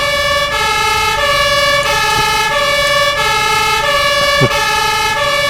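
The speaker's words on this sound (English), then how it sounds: "My bad, I forgot to turn the siren off." A loud fire truck siren in a firefighting simulation video game wails continuously in repeating tonal cycles, close and dominant, with a faint engine rumble underneath.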